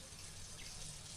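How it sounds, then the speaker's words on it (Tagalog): Water running or being poured in a steady, continuous wash, moved from one container into another for watering, fairly close and moderately quiet with no talk over it. "ilipat ko lang tubig dito"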